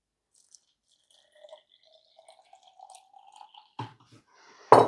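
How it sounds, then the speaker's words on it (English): Half a liter of milk is poured into a container: a faint trickle whose pitch slowly rises as it fills, with a few soft drips and taps, then a sharp clatter at the end. "after this we put in the milk"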